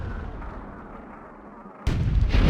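A low rumbling lull, then a sudden heavy cannon boom erupts in the game Myth II: Soulblighter, followed by another deep blast, loud and close.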